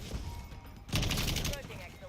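A rapid burst of automatic gunfire comes from the Modern Warfare Zombies video game, with dense, loud rattling shots that follow a quieter stretch and then taper off.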